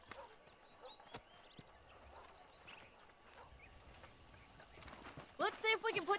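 Horse hooves clip-clopping in the Western video game Red Dead Redemption on PS3, a faint, sparse, uneven clopping with scattered birdsong in the background, followed near the end by a louder voice speaking.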